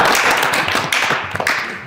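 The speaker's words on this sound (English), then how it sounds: "We can give a better round of applause" Short burst of audience clapping at an interview with The Dark Mark and friends, close and dense, with individual hand claps audible as it tapers off.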